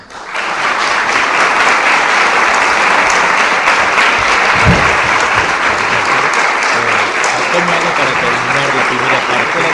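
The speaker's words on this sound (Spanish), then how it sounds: "Así que por todo esto yo también le pido a ustedes un fuerte aplauso para el Padre Sáenz." A large crowd applauds loudly and steadily, a dense wash of clapping that holds at full strength for the whole stretch.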